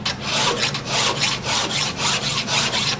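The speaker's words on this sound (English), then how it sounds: "you should go to the more fine file, and I'll use the rounded edge and use that to get rid of all the scratches" A fine hand file rubs back and forth over a wooden boomerang, clearing rasp scratches in steady, close, loud rasping strokes with a regular rhythm and no talking.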